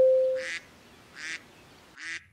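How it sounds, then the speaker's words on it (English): A cartoon duck quacks three times in an even rhythm, each call bright and nasal, close up and clear, with a short tonal sound before the first quack. "look at the poor duck."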